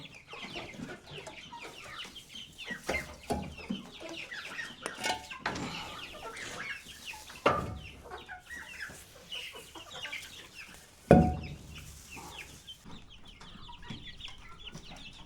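Several chickens cluck and squawk in a busy, irregular chorus, with a couple of sharper, louder calls standing out against steady background farmyard noise.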